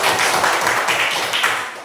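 A group of children clap their hands together in a classroom Christian religion lesson, a dense, steady patter of claps close by, filling the short moment with little pause.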